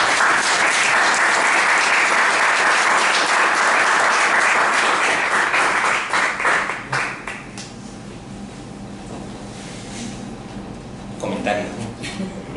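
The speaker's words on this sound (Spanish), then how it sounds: "Pido un aplauso para él." Audience applause for the author at a book presentation, loud and sustained dense clapping that thins and fades after about six seconds, leaving a quiet room with faint scattered sounds.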